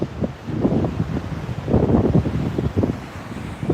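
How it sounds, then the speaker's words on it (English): Gusty wind on a breezy 85-degree day buffets the microphone in loud, uneven rumbling bursts that rise and fall throughout, with no voices. "beautiful 85 degrees, breezy, windy"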